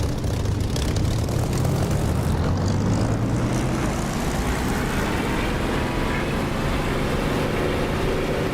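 A Spitfire's propeller engine throttles up for takeoff in the DCS flight simulator, a steady loud drone whose pitch climbs gradually over several seconds, with no talk.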